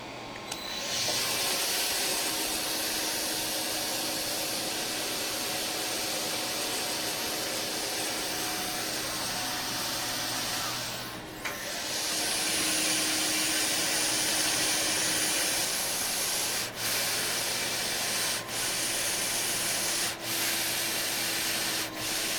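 A wire saw rasps steadily through an object with a continuous gritty scraping roar, while a dust vacuum hums underneath. A few brief dips and clicks break the sound, with no talking.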